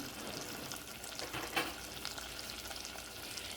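A spoon stirs an Old Bay seasoned shrimp boil, giving a faint, continuous wet swishing with one brief louder scrape.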